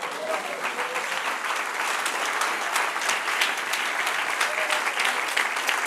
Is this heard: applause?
yes